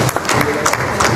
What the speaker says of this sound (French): Lorsqu'elle s'approche, on acclame très fort pour le Seigneur.